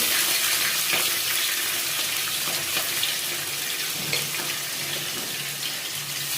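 Chillies and onions sizzle in hot oil for an egg curry, a dense, steady hiss close by that runs without pause through the whole stretch.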